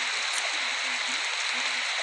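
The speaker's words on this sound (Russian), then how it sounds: "Начался идти дождь." Rain falls in the 99 Nights in the Forest video game as a constant, dense hiss of steady downpour, uniform and unbroken from start to end.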